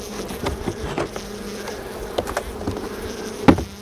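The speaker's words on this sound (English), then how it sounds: "I hear that bee that's sort of, you know, attacking the microphone." Honeybee from a swarm on a fence buzzing right against the microphone, a close, loud, fluctuating drone with sharp bumps and swells as it circles and strikes, with no talking.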